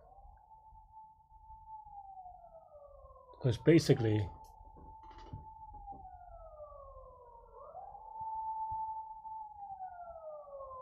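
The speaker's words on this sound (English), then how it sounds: "sorry about the siren." A siren wails steadily in the background, its pitch rising and falling in long sweeps, with a brief burst of talk partway through.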